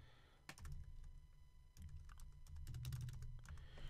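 Fingers type on a computer keyboard while a title is entered in Visual Studio Team Services, quick close clicks in short bursts with brief pauses, fairly quiet over a low room hum.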